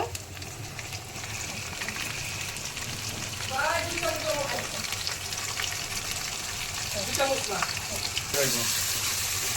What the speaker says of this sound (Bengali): পেঁয়াজটা মোটামুটি ভাজা হয়ে গেছে, এখন এই আদা বাটাটা দিব।